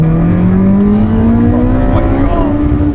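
A Honda Civic Type R EP3 engine revs loud and close, its pitch climbing steadily toward about 3,000 rpm in one smooth sustained pull with a rough, buzzy exhaust tone and no talking.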